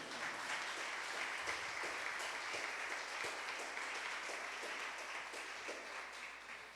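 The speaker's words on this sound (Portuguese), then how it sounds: "Aplaude a Jesus por isso." Church congregation applauding at a worship service, a steady wash of many hands clapping throughout at moderate distance, with no speech over it.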